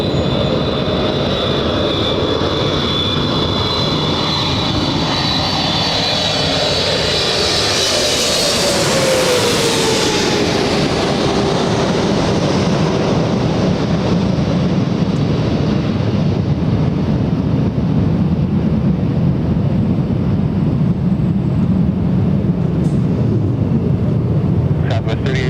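An Air France jet with GE90 engines comes in to land at Los Angeles International Airport, a loud, continuous roar with a sliding whine that swells as it passes close overhead and rumbles on.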